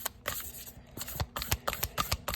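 Tarot cards shuffled by hand in a quick series of crisp riffles and slaps, close and fairly quiet, with no talking.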